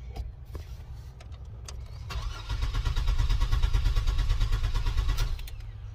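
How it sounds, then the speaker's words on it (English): A Chevrolet Blazer with a no-start fault cranks without firing: after a few clicks, the starter whirs in a fast steady rhythmic churn for about three seconds, loud and close, then stops. "There is a crank, but the engine doesn't turn."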